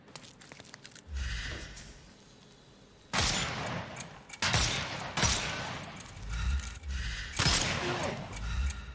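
Gunfire against enemy armour in Sherlock Holmes Chapter One: several sharp, loud shots in uneven bursts, with mechanical clicks and creaks between them and a quieter lead-in.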